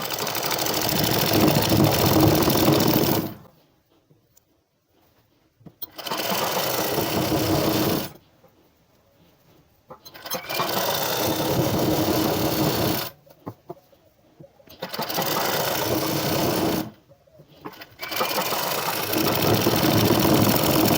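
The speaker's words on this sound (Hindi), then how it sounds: "तो ये सिलाई मैं आपको मशीन पर लगाकर दिखाती हूँ।" A sewing machine stitches anarkali frock panels together in five loud, close, steady runs of rapid whirring, each lasting a few seconds and separated by short quiet pauses.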